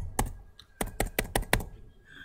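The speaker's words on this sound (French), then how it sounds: "Ah oui, c'est un clavier français." Keys clatter on a French-layout computer keyboard as someone types a database query, about seven crisp, close strikes in quick, uneven bursts with no talking.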